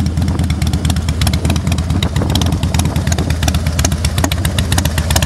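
A 2010 Harley-Davidson Heritage Softail Classic idles close by, its V-twin engine producing a loud, steady, lumpy rumble with mechanical clatter and no voices over it.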